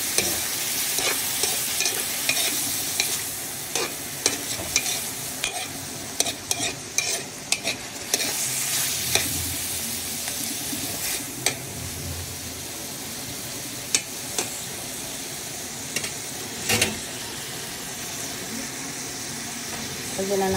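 Garlic, onion and tomato sautéing in a pan, a continuous close sizzle with repeated spatula scrapes and clinks through the first half, then a steadier fry, with a voice talking over it.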